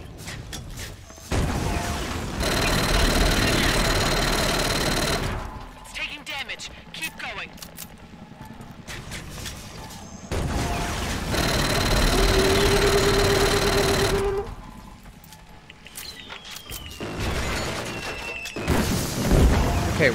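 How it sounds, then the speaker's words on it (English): Heavy rumbling explosions in the Killzone Shadow Fall shooter game roll in two long, loud booming waves with scattered impacts between them. "What are these explosions?"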